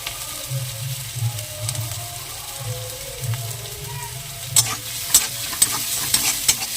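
Onions sizzle steadily in a pan for chicken kosha, a close, even frying hiss with soft rhythmic stirring, then a few sharp scrapes and taps of the spoon near the end.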